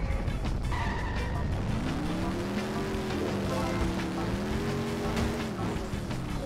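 A car is driven in The Simpsons Hit & Run, its engine droning steadily with a rising and falling whine and some tire noise under continuous game sound, with no speech.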